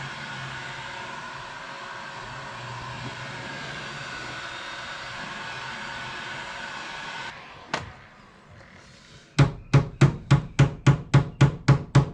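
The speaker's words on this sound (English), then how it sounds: "I'm going to mallet it, so we're going to use a regular hammer, which is fine because we're going to roll it anyway." A regular hammer shapes an Acura TL fender: after a long broadband hiss, one sharp strike and then a quick, evenly spaced run of about nine loud metallic blows, close and clear.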